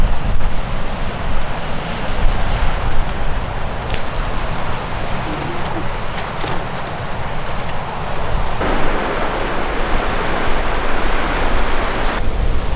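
Sea waves wash continuously onto the shore, a loud broad roar with wind mixed in and no speech, steady throughout.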